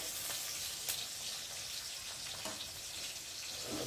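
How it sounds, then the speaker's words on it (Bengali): Onion frying in oil for a fish curry gives a continuous bright crackling sizzle, close and even across a few seconds, with no voices. "পেঁয়াজটা একটু লাল লাল মতো ভাজা হবে"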